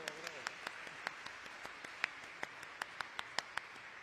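Sparse clapping from a small lecture audience, with individual hand claps at an uneven, unhurried pace and a faint murmur of voices in the room.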